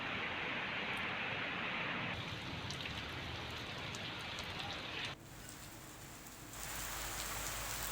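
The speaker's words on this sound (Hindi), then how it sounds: "मगर बारिश में गेहूं भीग गया" Rain falling steadily on harvested wheat fields in Roorkee, an even hissing patter that holds throughout, dipping briefly in level midway before returning.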